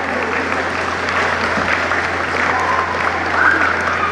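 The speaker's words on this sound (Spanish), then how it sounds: "Vamos a gritar con unos fuertes y calurosos aplausos para todos los amigos quienes apoyaron" Sustained, even applause from the audience at an outdoor community festival in San Miguel Copala, dense clapping held at a steady level for several seconds with a faint murmur of the crowd beneath.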